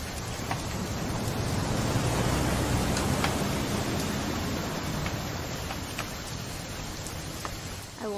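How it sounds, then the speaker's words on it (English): Steady, dense rain pours in What Remains of Edith Finch, a constant broadband hiss with scattered drop ticks, loud and unbroken throughout, with no talk. "It's gonna rain the whole weekend, isn't it?"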